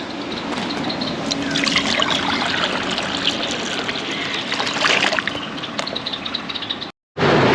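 Dirty water drained out and trickling away, a steady splashing flow that runs continuously before a brief cutoff near the end, with no talk over it.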